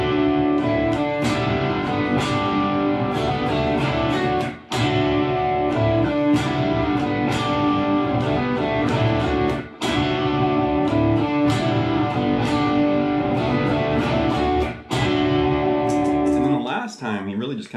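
Electric guitar chords blend with droned open strings layered on a looper, giving a dense, distorted, repeating phrase that restarts roughly every five seconds and ends in a swirling effect.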